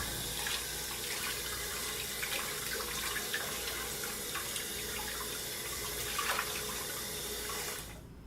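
Warm water runs steadily from a tap into a sink as cleanser is rinsed off a face, a continuous close splashing hiss with small splatter variations, cutting off at the end.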